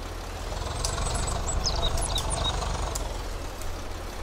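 Tractor engine in Farming Simulator 22, a mahindra Arjun 605 stuck with a trolley, idling with a steady low rumble and knocking pulse, faint chime-like game sounds above, running throughout without talk.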